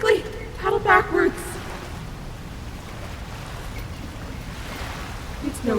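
Strong river current rushing toward a waterfall makes a steady broadband roar throughout, with a voice speaking briefly at the start over it.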